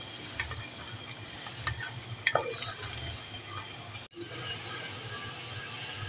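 Chicken korma with korma masala is stir-fried in oil, a low steady sizzle broken by scattered clinks and scrapes of a spoon against the pan, faint and close.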